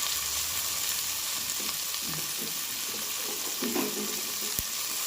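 Coriander, fenugreek and spinach leaves frying in oil for a Tamil Nadu style mutton biryani, a soft, steady sizzle with a few faint stirring knocks and one sharp tap near the end, fairly quiet overall.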